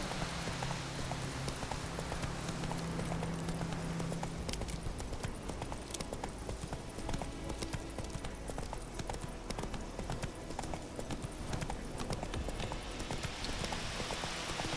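Roach, the horse in The Witcher 3 video game, runs at a steady gallop, with dense rhythmic hoof clip-clops under a continuous bed of game ambience and music for the whole stretch.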